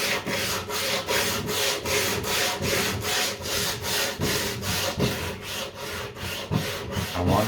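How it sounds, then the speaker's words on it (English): Wood is hand-sanded with 60 grit sandpaper on a small painted planter. The strokes are steady, rhythmic and raspy, about two per second, recorded close up and without speech. "I'm going to take 60 grit sanding paper and just give it the sand."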